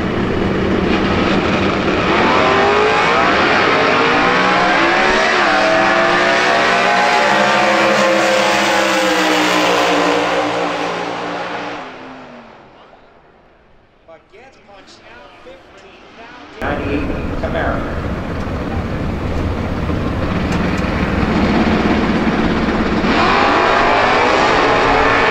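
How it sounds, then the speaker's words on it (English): Supercharged Camaro factory super stock drag race car at NHRA Southern Nationals eliminations, a loud roaring engine that fades to a lull midway, then surges back to a sustained roar. "837 factory super stock supercharged Camaro."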